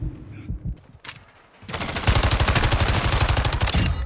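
Rapid automatic gunfire in Warzone 2 as the player drops into a prone position, a few isolated shots first, then a loud sustained burst of rapid rounds for about two seconds.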